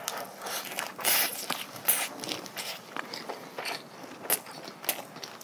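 A person chews food near the microphone, with soft, irregular crunching and biting sounds spread over a few seconds, some bites sharper than others, and no talking.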